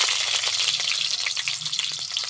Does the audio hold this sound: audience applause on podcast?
no